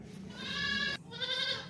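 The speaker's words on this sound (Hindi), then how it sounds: "काफ़ी बड़ी बकरी है माशाल्लाह से" A large, tall pregnant goat bleats twice in quick succession, close and fairly loud, with no talk over it.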